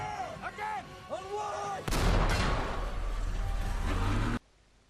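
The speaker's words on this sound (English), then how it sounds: "They will have time to fire that gun now." A Tiger tank's main gun fires in a World War II tank battle scene from the film Fury: one loud, booming blast with a long rumbling tail, after someone speaks briefly.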